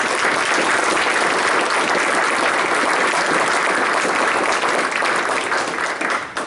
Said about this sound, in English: I would ask everybody to just to give me a hand and applaud you and your effort and your team.